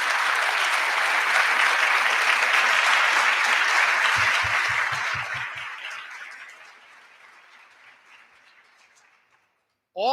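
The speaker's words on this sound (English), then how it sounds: "So give all the teams a round of applause" Audience at an intercollegiate ethics bowl national championship claps for the competing teams, a loud, dense round of applause that fades gradually to silence near the end.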